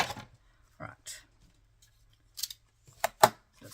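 Household scissors snip paper in a few short, crisp cuts at close range, separated by quiet gaps while crafting a folio.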